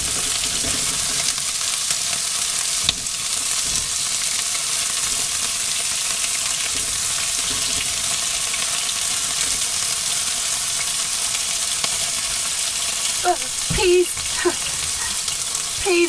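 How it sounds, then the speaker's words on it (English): A pot of peas boils over on a home kitchen hob, giving a steady, close hiss and sizzle that runs throughout, with a brief voice near the end. "Peas are overflowing."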